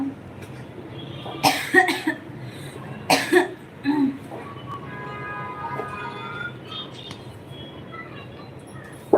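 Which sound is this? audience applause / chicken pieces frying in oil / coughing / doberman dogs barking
coughing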